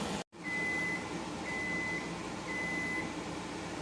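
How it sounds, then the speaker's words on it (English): A kitchen timer goes off after 25 minutes of pressure canning green beans, with three evenly spaced steady beeps over a constant background hum. "That's my timer going off. It's been 25 minutes."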